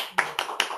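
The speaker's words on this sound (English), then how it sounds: "Claps for Manjunath." A few sharp hand claps in a classroom, about four distinct claps in uneven rhythm, close and fairly crisp over a quiet background.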